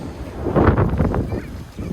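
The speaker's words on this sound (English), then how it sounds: "It's so windy." Strong outdoor wind buffets the microphone in nature, a loud, surging low roar that swells and eases over a couple of seconds.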